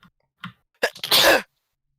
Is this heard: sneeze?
yes